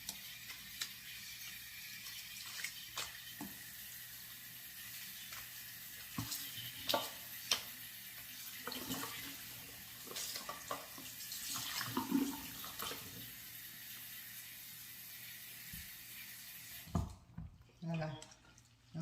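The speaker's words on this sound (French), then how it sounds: "On rince la perruque." Water running and splashing while a hair wig is rinsed, a steady wet wash with soft irregular sloshes, close by, ending in a brief quieter stretch with a few drips.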